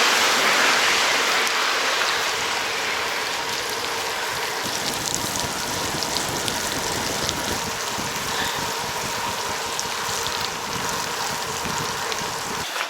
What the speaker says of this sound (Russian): Но этот дождь, почему он именно сейчас пошел?